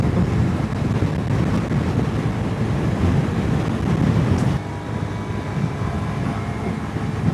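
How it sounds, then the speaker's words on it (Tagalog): Strong wind buffets the microphone on a boat crossing from the west coast, with steady broadband roar and wave wash continuing throughout without pause, loud and close. "Lakas ng hangin."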